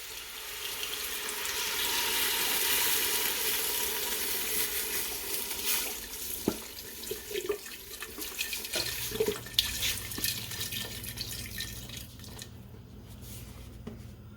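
Seafood and vegetable stock pours steadily into a soup pot for pumpkin crab soup, a continuous liquid splash that is strongest early, then thins into lighter trickles and a few clinks, with no talking.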